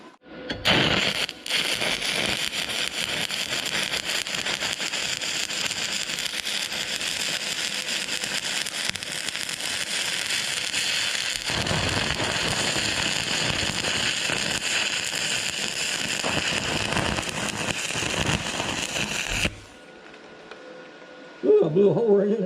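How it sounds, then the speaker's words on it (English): Arc welding on a vertical weld produces a loud, steady crackling sizzle for about twenty seconds, briefly dipping midway before cutting off, followed by a short burst of talking. "I'm gonna try something really crazy and try this vertical weld now."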